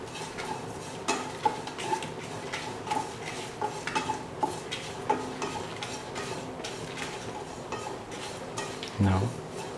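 Grated coconut is sauteed with turmeric powder and salt in a pan for roasted coconut chicken curry, with a spoon scraping and clinking against the pan in an irregular rhythm over a soft sizzle, and a louder clatter near the end.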